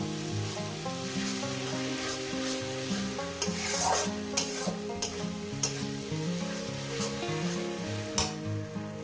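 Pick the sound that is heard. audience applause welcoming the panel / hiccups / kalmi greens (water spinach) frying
kalmi greens (water spinach) frying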